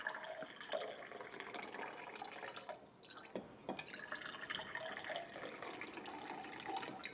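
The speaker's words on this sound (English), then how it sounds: "The melted ice is represented by the amount of water that's poured in each glass." Water poured from tumblers into glasses, a faint, thin trickling and splashing stream with a few drips, quiet and close, with no talking.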